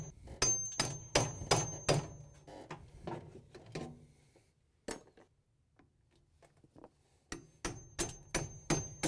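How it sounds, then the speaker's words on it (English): Sharp metallic hammer strikes on a chisel cracking a blower wheel off a motor shaft in quick bursts, a rapid volley, a pause with a single blow, then another fast run of ringing hits close by. "get in here with your chisel and a hammer and crack the blower wheel off the shaft"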